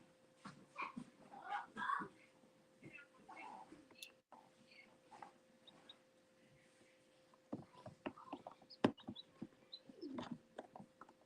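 Chicks in a brooder give faint, scattered peeps and soft rustling, with quiet talking mixed in throughout.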